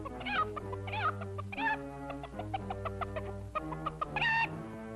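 A chicken clucks in short, repeated bursts, fairly close and clear, with no talking.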